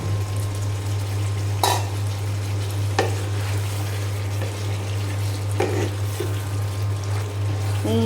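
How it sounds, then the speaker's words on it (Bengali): Beef being browned in a pot with whole garlic cloves, a steady sizzle and frying hiss with occasional sharp stirring scrapes against the pot over a constant low hum, no talking. "গোশ কষানো অনেকটাই হয়ে এসেছে, আমি এখন দিয়ে দিব আস্ত রসুন।"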